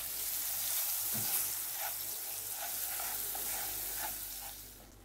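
Sugar and butter heat in a pan over medium heat, giving a steady soft sizzle and frying crackle with light stirring scrapes, close and fairly quiet, with no voices.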